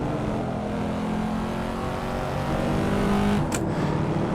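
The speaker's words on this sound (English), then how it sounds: "You can hear that V8 engine up front" A steady Corvette C4 ZR-1 V8 engine in the racing game Assetto Corsa drones at constant speed, with a brief sharp high-pitched click near the end.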